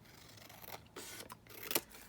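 Scissors cutting down a piece of paper at a desk, a few short snips and rustles close by, with no talk.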